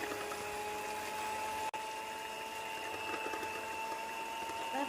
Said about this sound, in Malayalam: ബീറ്റ് ചെയ്യുന്നതാണ് നല്ലോണം വീറ്റ് ആയിട്ട് വന്നിട്ടുണ്ട്